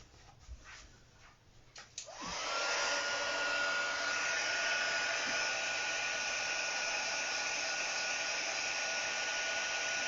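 A heat embossing gun blowing hot air switches on after a couple of seconds of faint clatter, then holds a loud, steady, close whooshing drone to the end.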